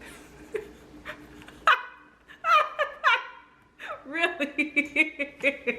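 Pet dogs bark and yelp in a home, loud and close, starting with sparse barks and building into a rapid burst of repeated barking.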